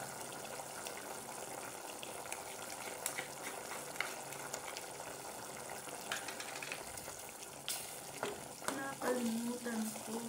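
Pork adobo bubbling and sizzling in a pot, with a steady broadband hiss, occasional stirring clatter and a few brief louder bumps toward the end, close and moderately quiet.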